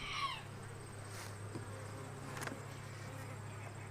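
Honey bees hum in a low, steady drone during a hive inspection, with a few louder buzzes flying close by. No one speaks.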